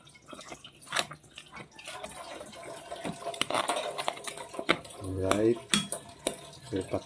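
Crabs stirred in a cooking pot with a utensil: clattering shell and metal clinks, wet sloshing and scraping in irregular bursts, close and fairly faint, with a brief voice partway through.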